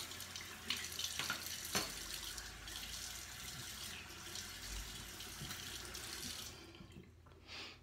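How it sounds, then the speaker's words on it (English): Crystal shaving hone rinsed under a running tap, a steady close rush of faucet water splashing over the stone for several seconds before cutting off near the end. "So let's rinse off and do a second pass."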